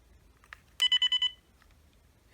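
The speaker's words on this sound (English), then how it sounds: "With voicemail, you just press the M button." Series of five short electronic key beeps from the buttons of an early-2000s Uniden analog cordless phone, evenly spaced and clear, with a soft click before and a thump at the end.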